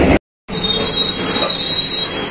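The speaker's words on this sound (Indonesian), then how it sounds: "Kereta api Lodayanya merapat di stasiun Cipendoy." The Lodaya passenger train pulls into Cipeundeuy station with loud, sustained wheel squeal and metallic screeching against a steady rumble, heard close and alone.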